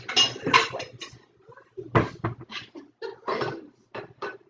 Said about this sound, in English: So I'll just get a bowl or a plate.